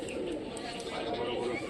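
A Giribaz pigeon of an old Rajshahi breed gives soft, low cooing calls amid steady background noise.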